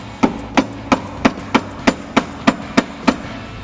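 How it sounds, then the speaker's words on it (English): Ten sharp, evenly spaced hammer taps seat a part on the lower control arm of a 2009 Mustang GT, each metallic strike close and distinct in a steady rhythm with nothing else sounding. "you're gonna need a hammer"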